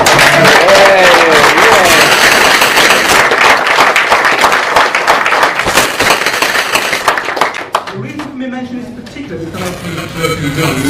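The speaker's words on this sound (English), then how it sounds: "So can we please give them a round of applause now?" An audience at a 2005 general election event breaks into loud, dense applause, sharp claps crackling for several seconds before fading, with voices talking over the end.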